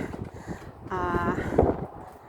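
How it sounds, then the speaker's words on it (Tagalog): Gusty winter Arctic Blast wind buffeting the microphone with a roaring rumble, a brief tonal whistle rising midway. "Tapos ang lakas ng hangin"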